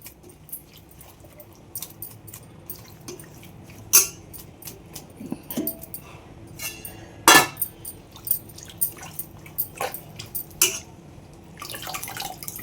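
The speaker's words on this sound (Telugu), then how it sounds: "ఇదిగోండి, శుభ్రంగా నీట్గా ఇలా కడిగేసుకుని మనం ప్లేట్లో తీసుకుందాం" Rela flowers are washed in water for a curry: sporadic close splashes, drips and light clinks against a quiet background, with no talking.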